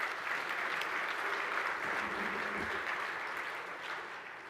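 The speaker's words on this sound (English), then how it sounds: "let's give him another round of applause" Keynote audience at a hardwood industry conference opening session giving sustained applause, a broad, even patter of many hands clapping from across a large hall that fades slightly toward the end.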